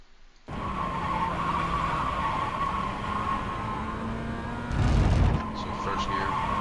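A Mazda MX-5 race car engine drones steadily at Winton Motor Raceway in iRacing, a close, sustained high revving note with a brief louder burst near the end, as though the car is shifting or skidding.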